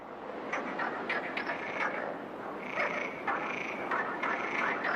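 Frogs croak in spring water, a dense chorus of repeated rasping calls overlapping at a moderate distance with no voices.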